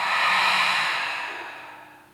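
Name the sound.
exhaling through the mouth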